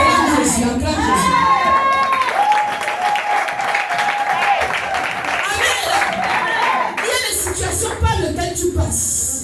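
A church congregation cheers, whoops and applauds in a loud, sustained swell, with a preacher's voice calling out over the crowd.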